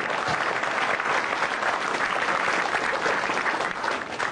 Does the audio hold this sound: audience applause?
yes